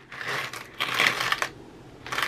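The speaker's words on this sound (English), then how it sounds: "Got a good batch of coins in there." Coins are dropped into a container in a couple of clattering, jingling pours, close and fairly loud, with brief gaps between handfuls and no one talking.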